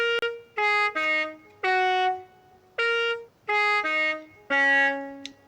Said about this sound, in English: We have got the Minecraft themed car horn,